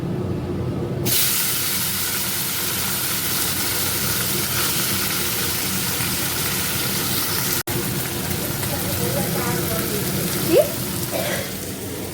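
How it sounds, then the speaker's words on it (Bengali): Fish frying in hot oil in a home kitchen, a loud continuous hiss and sizzle that holds steady throughout, close and without speech. "এখানে এই যে মাছ ভাজবো তেল গরম হয়ে গেছে"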